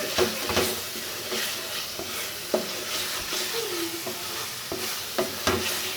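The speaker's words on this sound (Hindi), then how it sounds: "हमारा मसाला जो है माशाल्लाह बहुत अच्छे तरीके से भुना जा रहा है" Masala frying in ghee in a pan for nargisi kofta, a steady close sizzle broken by several scraping stirs of a spoon against the pan.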